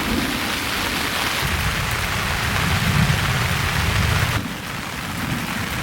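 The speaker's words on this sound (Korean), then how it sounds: "천둥번개 또 친다." Heavy rain beats steadily on a campsite during a thunderstorm, a loud continuous hiss, while a deep thunder rumble swells underneath through the middle and then fades, with no voices.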